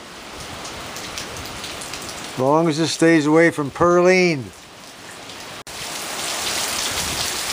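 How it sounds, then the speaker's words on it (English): Steady rain hisses evenly and closely on outdoor surfaces throughout, with someone talking over it briefly in the middle. "the rain has picked up"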